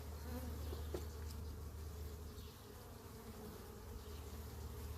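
Honey bees buzz around an open hive while honey supers are being added, a steady, dense insect drone close by with a low hum running throughout and no talking.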